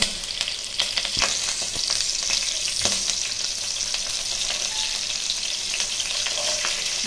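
Green chillies and curry leaves fry in hot oil in a pan for a curry, a steady bright sizzle with scattered sharp crackles and pops close up.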